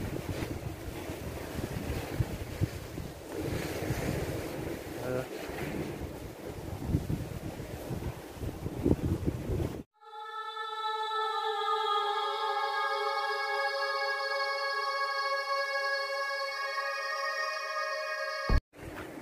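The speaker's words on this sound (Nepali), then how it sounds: "यहाँ चाहिँ एकदमै चिसो हावा चलिराखेको छ" Cold wind buffets the microphone at Hac Sa beach in Macau, a loud, rough rush for about ten seconds, then it cuts out abruptly and a steady, even electronic-sounding tone takes over.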